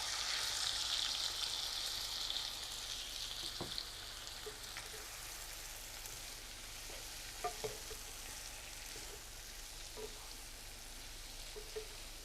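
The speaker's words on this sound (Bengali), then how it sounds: "5-6 মিনিট আপনার এইভাবে একটু ভাজা ভাজা করে নেবেন" Snake gourd bhaji fries in a pan with a soft, steady sizzle and occasional light scrapes of stirring, faint and close, with no voices.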